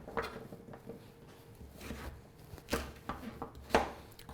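Knife chopping vegetables into rough cubes on a board for vegetable soup, irregular quick thuds in short bursts, close and fairly quiet with no talking.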